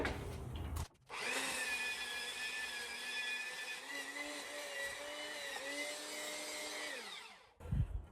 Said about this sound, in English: I'm obviously grinding in here a little bit.